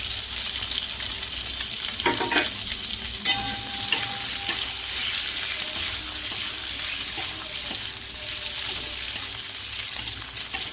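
Parboiled capsicum and onion pieces tossed in a hot pan for soya chilli, a low continuous sizzle with occasional light spatula scrapes and taps, fairly quiet and close.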